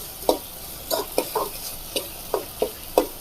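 Tempering spices in a pan on a home stove, heard as a series of short, separate sizzling bursts and stirring scrapes, about eight in an irregular rhythm, close and moderately loud with no talking.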